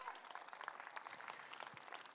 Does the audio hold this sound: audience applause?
yes